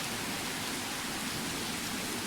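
Steady rain inside a video game, a continuous even hiss of falling drops at moderate level with no breaks and no voices.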